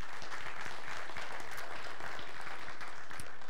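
A church congregation applauding and cheering, a dense, continuous wash of many hands clapping with crowd noise throughout, loud and sustained.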